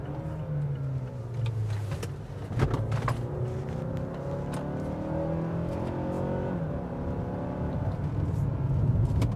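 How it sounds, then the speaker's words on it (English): A 2017 Mazda CX-5 taking a turn in second gear, its engine humming steadily with rising and falling tones as it pulls through the bend, plus a few faint clicks and knocks from inside the cabin. "Now we're going to take it through this turn here, down in a second."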